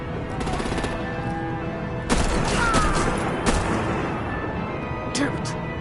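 Artillery and gunfire in the Batman Telltale video game, rapid bursts of shots and booms in short clusters, loud and close over a rumbling battle background.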